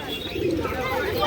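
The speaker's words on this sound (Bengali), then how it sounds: "এই খাঁচাটায় সমস্ত ম্যাড্রাস পায়রা রয়েছে" Madras pigeons kept in a cage at a village market coo softly in a brief snatch, with murmuring crowd noise around them.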